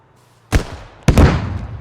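Tandem anti-tank rockets slam into a BTR armored vehicle in the game Squad: two close, loud blasts about half a second apart, each with a crackling, rumbling tail.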